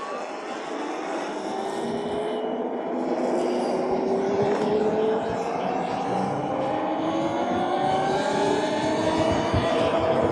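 An Altis Sigma 98V electric motorbike at speed gives a steady, fairly quiet motor whine with rising tonal sweeps as it accelerates, set in continuous wind and road rush.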